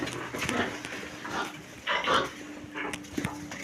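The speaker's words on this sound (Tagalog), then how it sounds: "mga may lamang baboy ang piggery" Pigs grunt and squeal from the pens of a rural piggery, a few short bursts coming and going at moderate distance over steady outdoor background noise.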